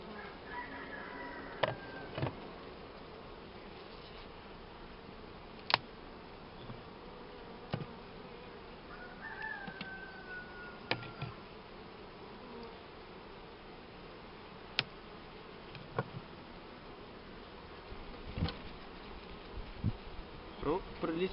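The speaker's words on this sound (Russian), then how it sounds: "Приличное количество пчелы" A dense swarm of honey bees hums steadily around a hive as a colony is moved from a hive into a trap box, with scattered clicks and knocks from handling the frames.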